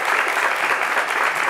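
A TV studio audience claps hard for a columnist on a midday show, a brief burst of dense, even applause with no talk over it.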